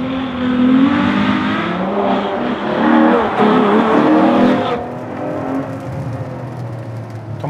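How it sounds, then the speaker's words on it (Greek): The Ferrari 812 Superfast's V12 engine roars loud and close, climbing in pitch under acceleration and then easing back after a quick shift, a smooth sustained howl with no talking. "Το μοτέρ είναι ασύλληπτο."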